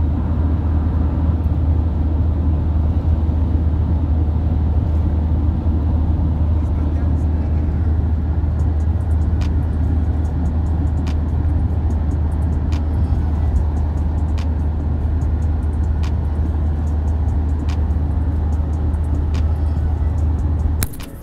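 An SUV cruises along a highway, heard from inside as a constant, loud low drone of engine and road noise with faint intermittent ticks.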